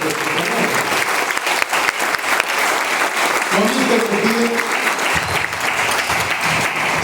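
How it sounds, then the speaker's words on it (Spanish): Loud applause from a church congregation fills the space, a dense steady wash of clapping with voices and a brief tonal murmur mixed in toward the middle and end. "Un fuerte aplauso al Señor."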